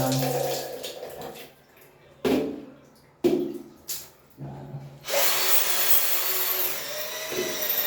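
Power drill boring a hole for a bathroom organizer installation while water is poured onto the spot, heard as a few short bursts of drilling followed by steady hissing, splashy noise at close range.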